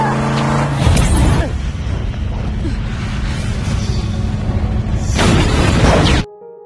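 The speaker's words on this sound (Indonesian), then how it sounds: "Nicole melemparkan bom tersebut dan berhasil mengenai mobil, yang kemudian meledak tak lama setelahnya." A car is blown up by a thrown bomb, giving a loud burst with a roaring, noisy blast. A second loud surge follows near the end, with a low tonal drone underneath.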